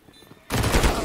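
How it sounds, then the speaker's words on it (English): Gunfire in a first-person shooter video game erupts suddenly halfway through as a loud, dense burst of rapid shots that continues to the end. "he gave away his position by like blind firing that corner, which is a smart move in general, Tox."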